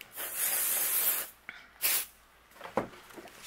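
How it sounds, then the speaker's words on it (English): A long hissing burst of ink mist sprayed over stencils, then shorter puffs of mist, close and fairly soft, with quiet pauses between. "I'm going to add a little pixie spray behind my stencils"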